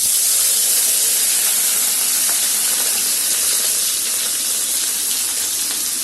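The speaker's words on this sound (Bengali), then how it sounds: "এখনই মাছটা ছাড়ব তো মাছটা ভেজে নিই" Turmeric-and-salt coated fish goes into hot oil, producing a loud, steady hissing sizzle that fills the whole stretch with little variation.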